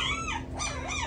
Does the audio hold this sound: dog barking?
yes